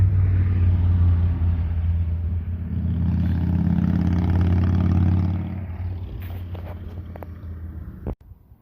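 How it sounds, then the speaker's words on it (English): A motorcycle goes by outside a vehicle, heard as a loud, steady low engine drone for several seconds that fades off, followed by a few knocks and a sharp thump near the end. "There goes a bike."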